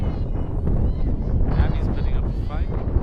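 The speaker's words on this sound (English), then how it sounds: "It is super windy out here." Strong outdoor wind buffets the microphone at a girls' varsity softball game, a constant low rumbling roar lasting throughout, with a commentator's voice talking over it.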